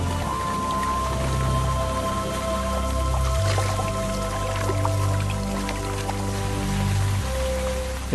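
Steady rain falls across the African savanna as a long drought ends, a dense, even patter of drops hitting the ground with wet dripping detail, continuous and fairly close, with no voices.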